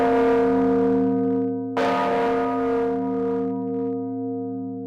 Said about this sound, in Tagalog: Gusto ko marinig yung tunog ng kampana.